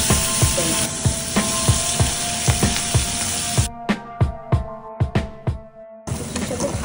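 Black cumin seeds frying in hot oil in a pan while cooking mashed prawn heads, a steady bright sizzle punctuated by regular spoon taps against the pan, the hiss cutting out briefly before returning.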